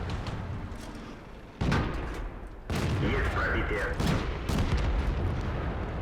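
Artillery shells landing in the World of Tanks video game, several heavy booming blasts that hit in sequence and rumble on loudly, with a dense roar of battle filling the spaces between them.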